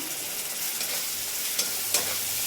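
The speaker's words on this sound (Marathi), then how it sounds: "लाल तिखट तेलात परतवून घ्यायचंय." Red chilli powder fries in hot oil with a steady, hissing sizzle and a couple of light scraping stirs, heard close and alone without speech.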